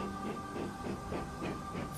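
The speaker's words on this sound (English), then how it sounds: "Finally, Edward puffed in." A steam locomotive in the Trainz video game pulls in with rhythmic, evenly spaced puffs of exhaust chuffing about every half second, over a steady whistle-like tone and a low rail rumble.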